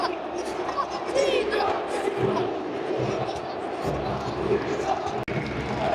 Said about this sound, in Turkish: Ha, alkışlıyorlar tribünlerden.